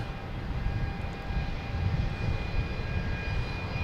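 An American Airlines Embraer regional jet takes off at Boston Logan Airport, a steady distant engine roar and rumble holding at moderate level throughout with no voices.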